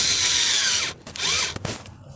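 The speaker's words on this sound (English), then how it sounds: "And then we're just going to drill right into that wood." A power drill drives a screw into wood to secure a strap, loud and close: a sustained high whine, a brief stop, then a second burst that slows and cuts off.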